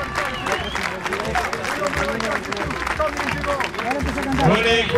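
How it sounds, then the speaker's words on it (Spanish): Crowd applause at the finish line of a 10K road race in Viedma, Río Negro, a dense patter of clapping hands mixed with babbling voices and nearby talk, swelling slightly toward the end. "aplauso"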